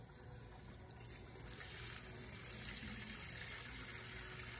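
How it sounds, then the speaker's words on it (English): Tap water runs in a steady, close hiss as synthetic hair extensions get a light rinse, growing slightly louder partway through, with no voices. "I'm going to go ahead and just do a light rinse."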